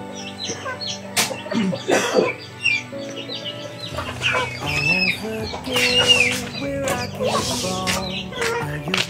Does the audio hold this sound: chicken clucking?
yes